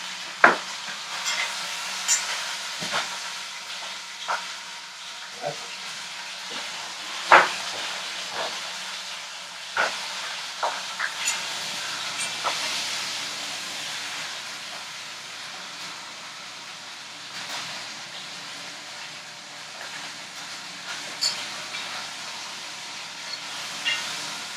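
Chicken pieces with white meat sizzle in a pan on a stove, a steady soft frying hiss with scattered crackles and light stirring clicks, close and moderate in level, with no talk.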